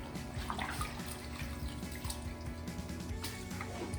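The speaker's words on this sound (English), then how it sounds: "back into our wash bucket, agitate the dirt out." A car wash mitt is sloshed and agitated in a bucket of rinseless wash solution, a steady close splashing and dripping of water that carries on without a break and with no talk.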